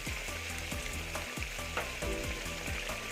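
Pabda fish in a mustard-poppy seed curry with green chillies bubbles and sizzles steadily in a pan, a continuous close hiss with faint tonal sounds underneath and no talking.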